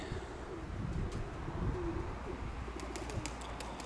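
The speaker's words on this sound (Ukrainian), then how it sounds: "А я ж підгодовую тут горлиці" Turtle doves coo in soft repeated phrases against a steady outdoor background, close by and moderately loud, with a few faint higher chirps toward the end.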